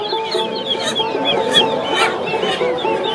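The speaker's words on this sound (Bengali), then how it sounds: "এই বাজারে আসলে না বিভিন্ন প্রজাতির হাঁস মুরগি আপনারা দেখতে পারবেন।" Chickens and ducks clucking and calling at a village livestock market in Bangladesh, with repeated sharp clucks and squawks over a busy crowd murmur, close and fairly loud.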